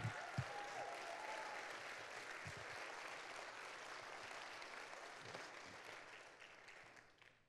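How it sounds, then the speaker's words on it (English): A church congregation claps their hands in sustained, fairly faint applause that fades out toward the end, with a few low thumps near the start. "Somebody give the Lord a hand clap for our serve team."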